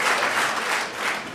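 Steady, dense audience applause from a Hungarian comedy stage show, a loud continuous wash of many hands clapping without pause.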